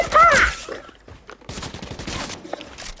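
Fortnite assault rifle fire comes in a loud burst at the start, then thins into scattered, fainter shots and small clicks with no talking.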